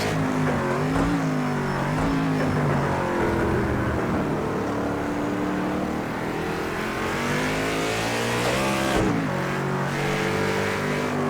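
A race car engine in the Project CARS 2 racing game revs hard and steadily, its pitch climbing and dropping with gear shifts, loud and continuous throughout with no talking.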